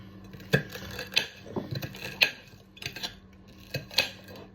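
Knife slicing bitter gourd (ampalaya) on a board, a series of sharp, evenly spaced taps and clicks at close range.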